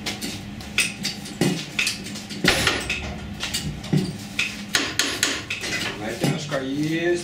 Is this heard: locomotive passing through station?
no